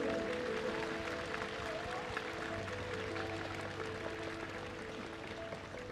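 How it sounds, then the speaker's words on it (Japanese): A crowd at a baseball retirement ceremony on a Rakuten fan appreciation day applauds, with steady, dense clapping filling the whole span at a moderate level and a few tonal sounds mixed in. "今一度温かい拍手をお願いいたします。"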